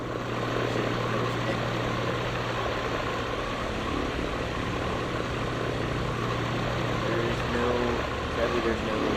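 A steady propeller drone from an ultralight plane on a runway in Microsoft Flight Simulator 2024 holds an even pitch throughout, with someone talking over it.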